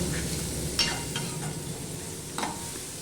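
Tomato and onion frying in a pan for a Bengali bele fish curry, giving a steady close sizzle with a few brief stirring scrapes and clinks, and no talking.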